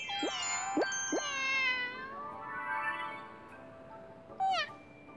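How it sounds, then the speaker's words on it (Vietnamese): Cartoonish cat meows from the mobile game Cung Đình Kế, several short rising mews followed by a longer drawn-out meow and a final bright chirp, clear and close over faint background game music. "Con mèo rất là đáng yêu"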